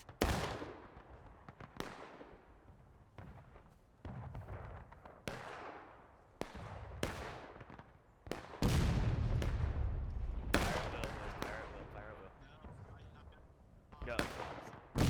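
Musket gunfire in the game War of Rights, a Civil War battle: many sharp reports spread unevenly over the span, some near and loud, others distant, each ringing out with a long echoing tail, while voices talk now and then.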